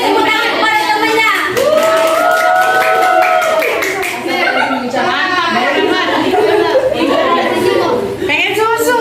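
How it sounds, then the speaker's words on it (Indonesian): Classmates clap for a winning group in a primary school science lesson, steady loud clapping mixed with chatter, laughter and whoops from children and adults throughout. "Beri tepuk tangan kepada temannya."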